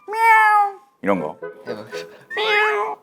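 A performer on a voice-acting challenge show imitates a cat, giving a sustained meow followed by shorter, broken mewing sounds and a final rising meow, with bits of speech mixed between them.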